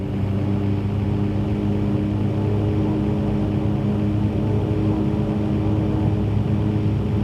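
A simulated airplane engine roars at full takeoff power in the X-Plane flight simulator, a loud, steady, unbroken drone with a constant low hum and no voices.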